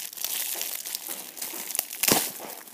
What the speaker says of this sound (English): I'm just getting my scissors and opening my chocolate.